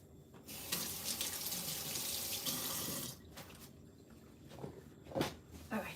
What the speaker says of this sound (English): just to rinse this off for a sec